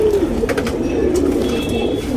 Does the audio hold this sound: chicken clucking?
no